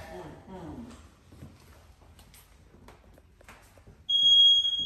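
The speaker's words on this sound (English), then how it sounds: "Come on, Smoke Detector" A household smoke detector in a home sets off its alarm: a loud, steady, high-pitched electronic tone starts abruptly near the end and holds, following a stretch of quiet talking.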